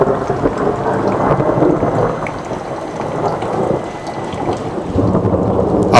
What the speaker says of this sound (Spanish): Afuera llovía intensamente